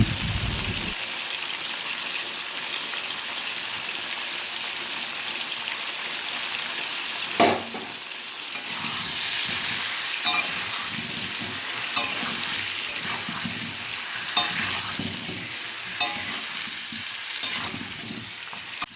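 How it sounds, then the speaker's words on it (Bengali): Potatoes, seasoned with a little spice powder and turmeric, frying in hot oil in a home kitchen, a continuous bright sizzle with occasional stirring scrapes and clicks, close and steady with no talking. "আলুগুলো খুব ভালোভাবে ভাজা হয়ে গেছে"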